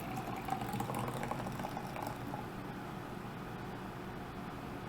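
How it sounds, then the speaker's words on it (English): Liquid poured out of a coffee shaker full of foam, a steady close wash of splashing and trickling that runs for about five seconds with no voices. "Let's see if I can pour out the liquid."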